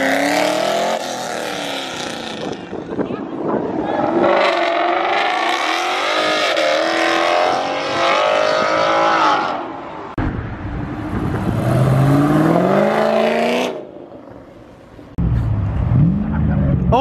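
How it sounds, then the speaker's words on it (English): A Camaro engine revs hard and loud through its exhaust, rising and falling in pitch over several bursts, with a brief dip before roaring up again. "Oh my God, that thing's got an exhaust on it."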